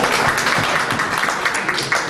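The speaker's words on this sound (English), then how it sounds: "Clap for him" Workshop audience at an agri-finance international event clapping for a person, a loud sustained burst of many hands applauding evenly without pause.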